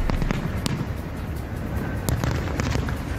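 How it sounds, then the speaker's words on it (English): Independence Day fireworks over a city, a string of sharp bangs and crackles with several louder booms standing out against a rumbling, continuous background. "The city kicks off its Independence Day celebration with booms across two boroughs."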